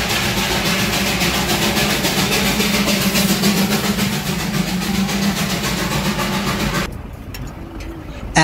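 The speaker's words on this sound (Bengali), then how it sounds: "রাস্তা দিয়ে যেতে যেতে দেখা হয়ে গেল আবার সেই টয় ট্রেনের সাথে।" A Darjeeling toy train engine runs with a steady, loud mechanical rumble and a continuous broadband roar heard up close for several seconds, easing off toward the end.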